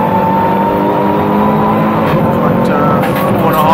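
SupaCup Polo GTI race cars screaming past at full speed above 220 km/h, a loud, sustained high-revving engine roar that swells and shifts as the cars pass close by.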